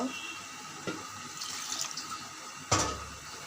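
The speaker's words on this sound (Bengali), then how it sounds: "হালকা একটু পানি দেব কষানোর জন্য।" A little water poured into a pan of chicken curry with jackfruit seeds while the masala cooks down: a soft, steady watery pour that ends in a brief splash, close by, with no talking.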